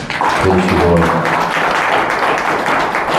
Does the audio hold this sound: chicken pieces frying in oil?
no